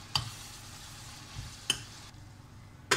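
Vegetables are stirred in a pan with yogurt and salt for a kodo millet biryani. A soft, low sizzle runs quietly throughout, broken by three sharp spoon scrapes against the pan.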